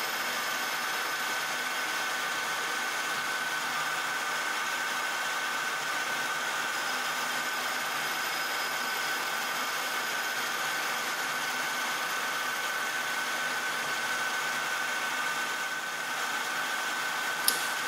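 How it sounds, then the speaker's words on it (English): A metal lathe with a collet chuck turns a custom head stud, giving a steady, even mechanical whine and hum that continues throughout at moderate volume. "In a minute here, I'll stop the lathe"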